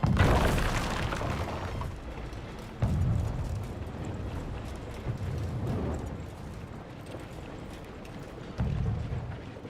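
In the video game Conqueror's Blade, cannon fire booms out in a few heavy, spaced blasts over a constant rumble of battle noise, with no voices present.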